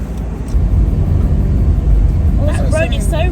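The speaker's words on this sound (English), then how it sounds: "That road is so rumbly, isn't it?" Car rolling over a rumbly, rough road in the dark, a steady low road roar throughout, with a voice talking near the end.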